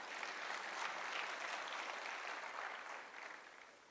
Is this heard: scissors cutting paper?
no